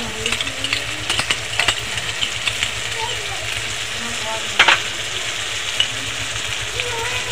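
A paste of mustard, poppy seed and coconut with green chilli, turmeric and salt fries in a pan with a constant close sizzle, and a utensil clinks and scrapes against the metal now and then.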